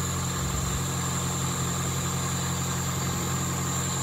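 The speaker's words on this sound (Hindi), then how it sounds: "अभी गाड़ी को स्टार्ट किया है, मगर पहले से आवाज़ बहुत स्मूथ लग रहा है" A Suzuki Swift engine idles steadily right after a throttle body cleaning, a smooth, even low hum with a faint whine, close and continuous for the whole stretch with no talking.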